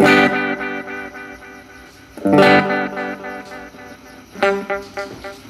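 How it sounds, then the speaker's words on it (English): A 1970s 8-track tape delay unit with echo and repeats turned up, layering dense cascading repeats over a played part. The wash swells at two points and thins back out in between, with no voice over it. "let's turn the echo and the repeats up."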